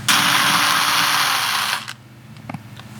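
A cordless power drill whirs loudly and steadily for nearly two seconds while backing a round-head screw out of a truck camper, then stops, leaving a few faint clicks and taps.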